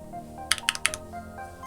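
About five crisp, clacky keystrokes on a mechanical keyboard land in a quick burst, sitting over a soft tonal hum in the background.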